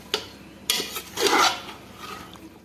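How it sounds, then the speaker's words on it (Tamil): A spoon stirs fried jackfruit into biryani masala in a cooking pot, giving a few scraping, clinking strokes against the metal with short pauses between them. "மசாலாவோட இந்த பலாக்காய் மிக்ஸ் ஆகணும்."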